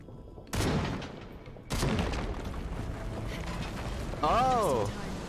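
Gunfire in the video game Shadow of the Tomb Raider, two loud bursts of shots cutting in sharply, followed by a sustained rumbling roar and a warbling mechanical whine near the end.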